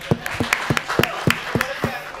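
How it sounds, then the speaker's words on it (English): An audience at a Deepika Padukone mobile app launch event breaks into a short round of applause, with sharp rhythmic claps from nearby hands sounding under light chatter. "take A round of applause, guys"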